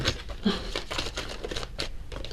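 Crisp crinkling and riffling bursts of oracle cards being shuffled, close by, in short uneven flurries with brief pauses between.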